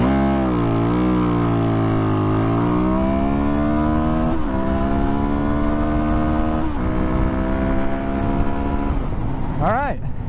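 Suzuki DRZ400SM motorcycle making a second-gear launch at high revs, the engine note climbing steadily and loudly close by, then a sharp rising rev near the end.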